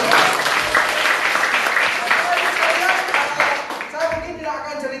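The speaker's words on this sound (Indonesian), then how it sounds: "Berikan tepuk tangan buat Anda." Dense audience applause fills a hall at a small-business seminar, steady, close and loud for several seconds, with a voice starting to speak as the clapping thins near the end.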